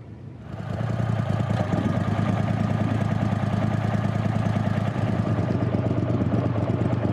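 A boat motor starts and settles into a steady, loud, close drone with a fine rapid clatter, running unbroken with no talk over it.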